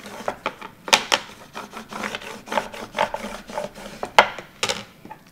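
A scraper tool is drawn across vinyl laid on a craft surface under a paper towel, making a series of close, dry rasping strokes in an uneven rhythm.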